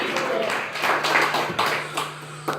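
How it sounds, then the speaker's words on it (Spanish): A congregation claps during a Spanish-language morning church service, with uneven bursts of hand claps that rise and fall, some louder accents standing out from the rest. "Dale un aplauso al Rey en esta mañana."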